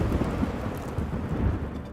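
A thunderstorm in the video game Mecha BREAK: a steady, dense roar of rain with rolling thunder rumbling beneath it, loud and continuous, then cutting off abruptly at the end.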